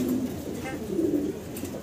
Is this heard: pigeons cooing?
yes